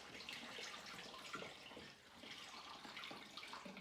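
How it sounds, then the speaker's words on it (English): Water pours steadily into a plastic bottle for a 2-litre batch of homemade ginger beer, a continuous splashing fill at close range with no talk. "as the water goes into the bottle with our product"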